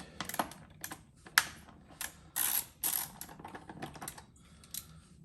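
Ratchet wrench loosening small 4mm metric bolts on the air intake of a Yamaha Bolt motorcycle: a series of close, crisp clicking bursts of varying length, some short taps and some longer ratcheting runs, with no talking.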